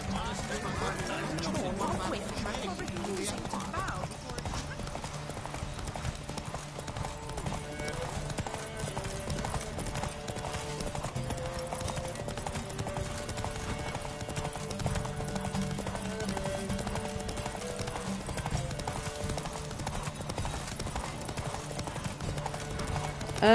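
Roach the horse gallops in The Witcher 3 with a rapid, continuous clip-clop of hooves, steady and fairly close, over a soft musical backdrop throughout.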